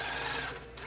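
Longarm quilting machine stitching, a steady close mechanical hum and rapid needle rattle that eases slightly near the end.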